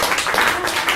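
Audience clapping at a talk, a dense close burst of many hands applauding steadily throughout.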